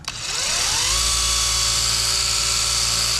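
A power polisher on car paint spins up quickly and settles into a steady, loud high-pitched whine, holding an even tone without any speech.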